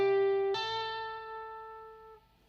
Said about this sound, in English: It sounds like this: 5, hammer to 8, tap 10.